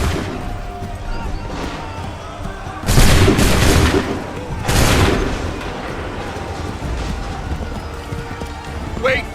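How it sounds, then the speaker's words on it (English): A musket volley fires on command in Assassin's Creed 3 Remastered: two loud, broad blasts a couple of seconds apart over horses clip-clopping and a noisy battlefield background. "Wait for my signal. Make ready. Shoot!"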